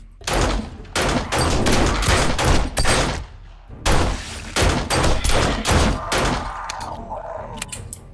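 Gunfire in the survival game 7 Days to Die: rapid bursts of loud, close shots in clusters, a brief pause, then more volleys that thin out into scattered cracks and a lingering ringing tail.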